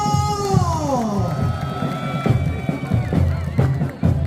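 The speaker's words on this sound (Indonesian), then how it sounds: "mana tepuk tangannya buat Riva," Crowd at a volleyball grand final cheering and clapping for a player, lively shouts and applause in a sports hall under an announcer's excited voice.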